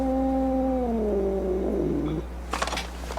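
A tiny kitten gives a loud, close cry that slides downward and breaks into a rough, gravelly tail, followed by a few brief rustling noises.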